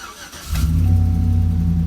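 A Chevrolet Silverado 5.3 engine cranks briefly after an oil change, then catches and settles into a loud, steady idle nearby, with no talking.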